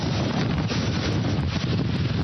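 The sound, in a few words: wind gust during Hurricane Sandy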